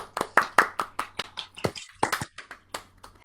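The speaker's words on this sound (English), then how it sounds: "we'll just give Christopher Norton a round of applause" An online audience gives a round of applause: a sparse, uneven scatter of sharp, close hand claps from a few people, lasting about three seconds.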